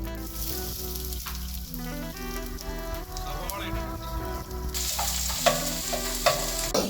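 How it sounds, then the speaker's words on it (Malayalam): Mustard seeds spluttering in hot oil in a pan for chicken curry, a close steady sizzle with sharper crackling pops growing louder toward the end, over faint background music. "നമ്മുടെ കടുക് പൊട്ടുന്നുണ്ട്"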